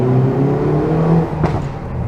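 A Hyundai i30N's engine drones steadily through a tunnel, loud and close with a throaty low hum and a brief rising rev near the end, no talking.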